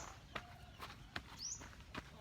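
Soft footsteps tread on loose soil while planting grass in a front yard, a few quiet, uneven steps close by against faint outdoor morning background.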